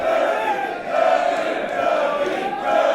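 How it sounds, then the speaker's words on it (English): Wrestling crowd at a WCPW Loaded show roaring and chanting in support of Martin Kirby during his match with Travis Banks, a dense, sustained wall of many voices close and loud throughout, swelling slightly in places. "This crowd united in their support for Martin Kirby."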